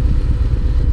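The V-twin engine of a Harley-Davidson Street Glide motorcycle runs at a loud, close, deep throbbing idle, the rumble steady and pulsing for about a second with no voices.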